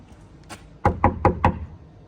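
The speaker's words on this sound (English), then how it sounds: "let's knock on a few doors" Knuckles rap on the door of a business at an industrial estate: one light tap, then four firm, evenly spaced knocks close by, with quiet background in between and no talking.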